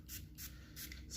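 Methylated spirits misted from a hairspray bottle onto a cutting blade before dividing Anthurium magnificum roots; three or four short soft hissing spritzes come in quick succession, quiet and close.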